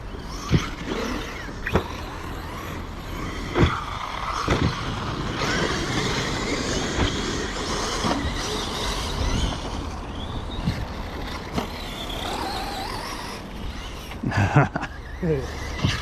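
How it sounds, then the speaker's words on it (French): A small 4S car is driven, its engine a steady low rumble with road and wind noise running throughout, while people inside talk over it and occasional knocks and clicks pass by. "C'est bizarre de rouler le petit 4S après les autres"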